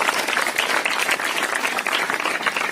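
Loud, enthusiastic applause from students at a Teachers' Day celebration in a higher secondary school, a thick, continuous wash of many hands clapping close by with no talking over it.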